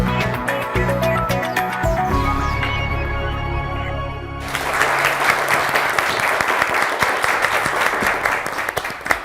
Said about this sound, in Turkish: Bence yine cılız alkışlar siz bilirsiniz ama yolcu etmeden önce şöyle kuvvetlisini duyuralım duyuralım